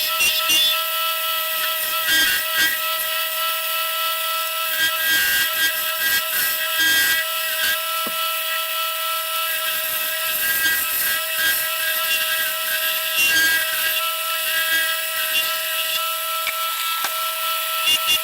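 Steady wood turning on a lathe, a gouge shaping the head of a wooden pizza cutter handle down toward a mandrel: a continuous high motor whine with scraping, chattering cuts that come and go in uneven bursts.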